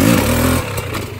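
A motorcycle engine revs hard as the rider applies clutch and throttle for a wheelie, a loud, close roar that holds for a moment and then drops off into a rougher, clattering idle.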